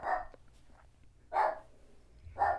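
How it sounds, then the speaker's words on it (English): A dog barks three times in separate loud bursts spaced about a second apart, close by, with no talking. "this fucking dog."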